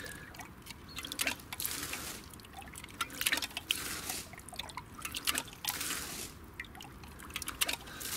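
Water slowly seeps and drips into a gypsy well dug at a bushcraft camp, filling a mug set flat on the bottom; soft, irregular trickling and dripping plays on its own at a faint level.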